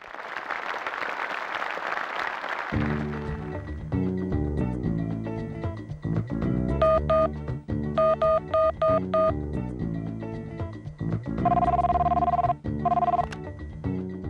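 A telephone rings in short repeated double bursts over loud rhythmic drumming and music, with applause-like noise at the start.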